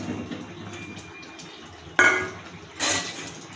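Fried onions being stirred into a soybean curry in a pan, with a sharp clatter of utensil on metal at two seconds and a second scraping burst shortly after, over a low background hum.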